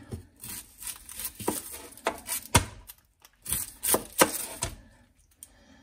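A knife slicing through an onion on a cutting board, a string of sharp, close chopping and cutting strokes in uneven bursts with short pauses between them, heard without any talk.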